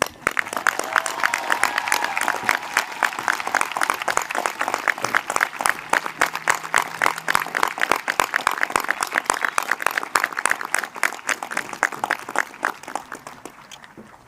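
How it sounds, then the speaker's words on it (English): Sustained applause from a crowd at a high school graduation ceremony, steady dense clapping that continues for several seconds before tapering off at the end. "I think that deserves an applause."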